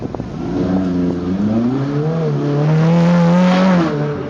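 A Ferrari 458 Speciale's V8 engine drones loudly and steadily, its pitch rising and falling slightly as it revs, heard alone without talk.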